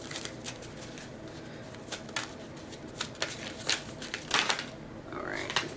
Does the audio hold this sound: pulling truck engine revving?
no